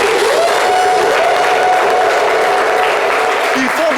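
A studio audience applauds loudly and continuously during a French-language talk show, dense clapping filling the whole stretch with some cheering voices mixed in.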